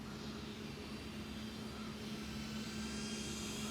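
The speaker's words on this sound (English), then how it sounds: "These small drones are getting better and better." A small drone with aging batteries flies overhead, giving off a steady, faint motor drone and whine that holds constant throughout without any voices.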